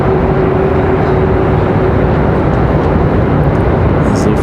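Airliner passing at Raleigh-Durham airport, a loud, dense engine rumble close by and steady from start to finish, with a faint thin tone running under it.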